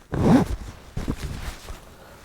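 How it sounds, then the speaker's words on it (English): A zip on a heated clothing garment pulled once, a short close rasping zip followed by fainter fabric rustles and handling sounds. "I can operate a zip."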